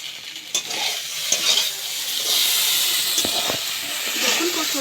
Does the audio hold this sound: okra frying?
yes